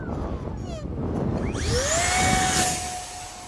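The electric motor of a small RC airplane with safe mode on, outdoors at a flying field, whines up in pitch as the throttle is pushed, a rising buzzing tone swelling loud and then easing slightly.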